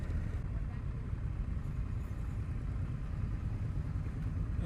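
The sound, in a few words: Indian FTR Rally motorcycle riding at low speed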